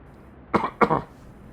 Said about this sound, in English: Did not expect to have that coughing fit going on